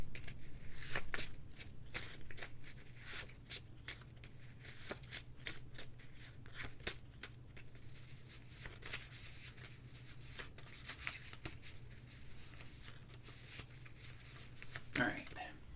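A deck of cards riffled and shuffled at a table, a series of quick crisp flutters and snaps over a steady low hum, with a brief scrape near the end.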